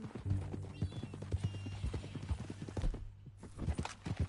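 A horse's hooves clip-clopping at a steady, walking rhythm, close and fairly clear, with a brief pause near the end before the hoofbeats resume.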